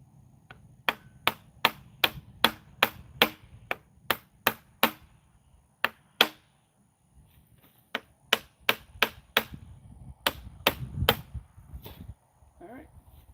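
A hammer strikes wood while wooden furniture is assembled, in two sharp, rhythmic runs of evenly spaced blows separated by a short pause, close and loud against a low background rumble.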